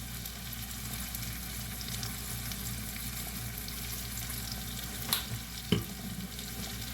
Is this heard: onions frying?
yes